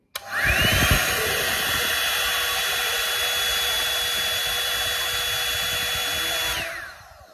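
Loud, steady whir of a Philips 5000 air styler blowing air on its high setting, running continuously for about six seconds, then spinning down.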